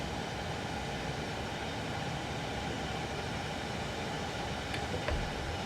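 A Class 395 train brakes, heard from inside as a steady, fairly quiet rumble of running gear with a faint brief squeal near the end.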